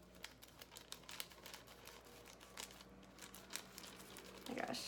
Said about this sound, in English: we will cut it together with my little like baby scissors that I have over here